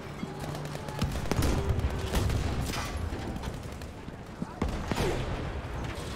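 Battlefield V gunfire in a war campaign battle, dense rapid bursts and sharp shots cracking repeatedly, loud and close, with brief louder reports near the end.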